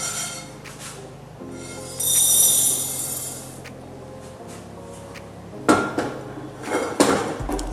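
Roasted toor dal being taken off a stove and set aside, with a pan and utensils knocking and clattering in a few sharp bursts near the end, alongside a stretch of sizzling hiss and a steady low kitchen hum.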